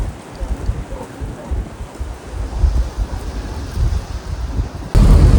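Strong cyclone wind roars and buffets around a building in Gisborne, a loud, continuous rushing with heavy low gusts pounding the microphone, surging louder at the end.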